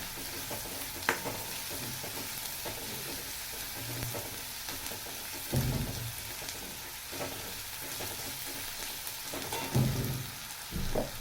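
Tomatoes frying in a pan for a fish curry, a continuous close sizzle broken by periodic scraping thumps of a spoon stirring and mixing them.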